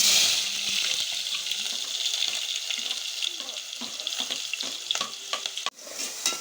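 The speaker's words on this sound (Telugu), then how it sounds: "ఇప్పుడైతే ఆనియన్స్ వేగినాయి కదండి" Onion paste fries in a hot pan, a steady close sizzle broken by scattered clicks and scrapes of stirring, ending with a sharp knock.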